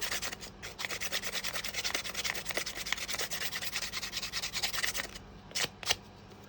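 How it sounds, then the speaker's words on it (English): A nail file rubs back and forth over the edges of small wooden pieces for a model water tower, a rapid, steady rasping scratch up close that stops near the end with a couple of final strokes. "I'm going to go over those with my nail file."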